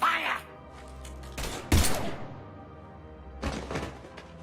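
Gunfire in the video game Mass Effect 3 comes as a few sharp, clustered bursts, with soft spoken dialogue around them.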